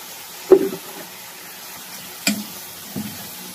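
A spatula stirs vegetables in a hot pan in a home kitchen, giving a few short scraping clinks over a soft sizzle.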